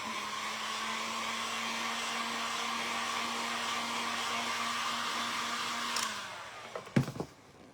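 A hair dryer blows steadily on wet paint on a thrifted ornamental bird, a loud constant whir for about six seconds before it switches off, followed by a few brief knocks and handling sounds.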